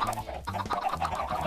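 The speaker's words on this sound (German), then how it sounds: "Huch, ich schlage die Hühner hier aus Versehen." Chickens in the video game Minecraft cluck in quick repeated bursts, loud and close, one clucking phrase after another for the whole moment.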